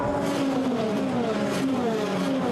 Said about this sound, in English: Cars going out wide there as well.